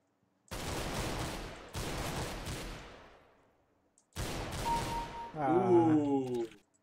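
Gunfire in Counter-Strike: Global Offensive, several loud bursts of rapid shots separated by short gaps, the last one followed by ringing electronic game tones.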